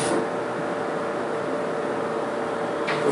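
Dover scenic hydraulic elevator at a hotel starting to move, a steady low mechanical hum and whir with a faint transient near the end, no voices.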